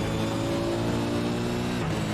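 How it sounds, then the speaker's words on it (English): A V8 race car engine in a sim racing game roars steadily flat out, loud and continuous, with a slight pitch dip near the end and no talk over it. "It was cranked up, flat out, big roar of that V8 engine coming through the speakers."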